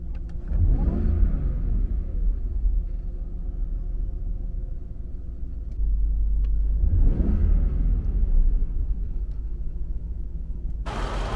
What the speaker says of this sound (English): my supercharger whine will be slightly more pronounced because it is spinning faster at a lower RPM